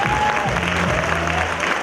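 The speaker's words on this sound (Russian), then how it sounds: "Есть люди без образования вообще? Можете поаплодировать?" A concert hall audience at a master's programme evening claps in response to a question, a short burst of scattered applause with some voices mixed in.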